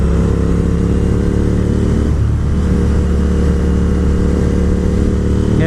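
A Honda RC51 VTR1000 SP2 V-twin sport motorcycle is ridden, its engine giving a loud, continuous throbbing drone that rises and dips slightly with throttle, with no voices over it.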